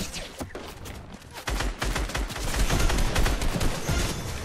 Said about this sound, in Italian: Ci sparano dalla montagna